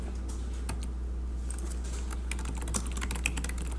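Typing on a computer keyboard during Excel work, with soft, irregular keystroke clicks over a low steady hum, fairly quiet and with no talking.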